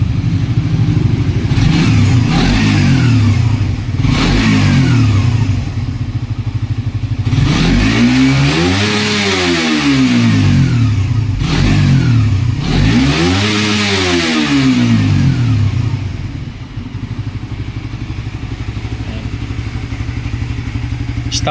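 A stock Suzuki GSX 150 motorcycle engine idles loudly nearby, then is revved hard several times in repeated surges up toward the limiter, each rev climbing and falling back.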